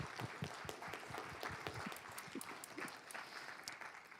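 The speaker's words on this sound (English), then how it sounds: "Let's give her a round of applause." Audience applause during a church service, steady clapping from many hands filling the room, moderately distant and continuous throughout.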